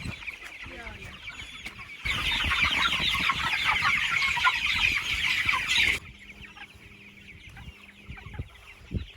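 Pastured poultry clucking and chattering outdoors in a dense, loud chorus that swells for several seconds and then drops back to scattered calls, with a voice speaking faintly.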